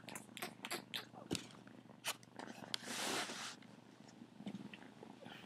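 Close purring from curious young kittens indoors, a soft continuous rumble broken by small rustles and clicks, one louder breathy swell in the middle, with no talking.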